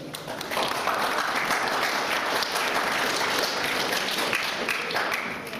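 Sustained applause from a lecture audience in a hall, dense steady clapping that swells quickly and holds for several seconds before easing at the end.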